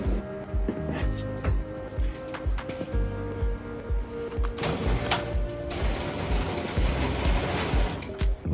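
A LiftMaster screw drive garage door opener runs after a coupler replacement, with a steady mechanical drone and repeated rhythmic knocks and clicks from the drive, fairly close and without talk.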